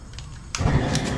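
An outdoor gas burner from a seafood boiling kit lights: a quiet low hiss, then a sudden soft whooshing roar as the flame catches and keeps burning, fairly faint overall.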